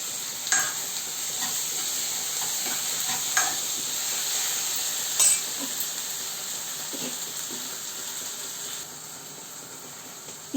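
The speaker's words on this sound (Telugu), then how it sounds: "ఇప్పుడు కర్రీలో వేసుకుని వేయించుకుందాం." Tomatoes frying in an egg masala curry, a steady broadband sizzle with a few sharp clinks and scrapes of a spoon stirring the pan, continuous and close throughout.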